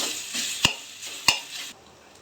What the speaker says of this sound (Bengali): তো এটা একটু ভালো করে নেড়ে নেওয়া হলো।